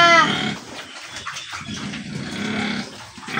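Three pigs squabble over food at feeding time, squealing and grunting loudly up close in a continuous jostling clamor.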